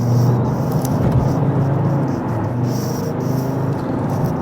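A Volvo V70 accelerating as its traction control intervenes, the engine a steady loud drone heard from inside the car with no strong rise in pitch.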